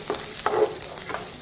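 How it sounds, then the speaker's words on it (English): Onions dropping into a hot pan and being stirred, with a few short scraping stirs and a soft sizzle over roughly a second and a half at moderate loudness. "Onions go in."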